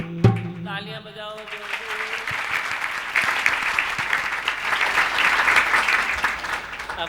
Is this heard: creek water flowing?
no